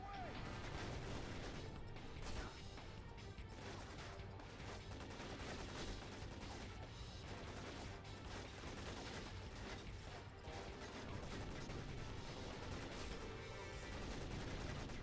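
Rapid gunfire from a PlayStation shooter game, dense bursts of shots and booms over a continuous loud game soundtrack, with character voices now and then.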